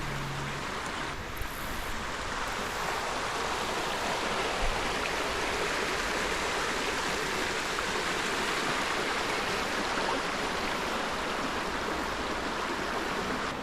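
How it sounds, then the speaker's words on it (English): A small water feature stream runs beneath a bridge along a trail in Bentonville, a steady, even rush of flowing water heard alone at a moderate, continuous level. "A nice little water feature over here."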